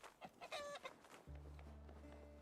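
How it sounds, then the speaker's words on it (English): A chicken in the RuneScape: Dragonwilds video game gives a short run of clucks, followed by a sustained low humming game tone that continues to the end. "Chicken!"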